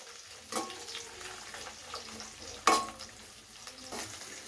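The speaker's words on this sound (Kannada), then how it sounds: "ಇವಾಗ ಇದನ್ನೆಲ್ಲ ಚೆನ್ನಾಗಿ ಫ್ರೈ ಮಾಡ್ತಾಯಿದ್ದೀನಿ" Finely chopped ingredients frying in a pan for kadlekalu gojju, a chickpea curry, with a low steady sizzle broken by a few sharp scraping stirs of a spatula, close and quiet, with no talk.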